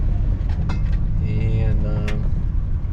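A van rolls slowly across the weighing scale at a scrap metal yard, its engine idling low and steady throughout, with a voice briefly speaking and a few light knocks and clanks mixed in.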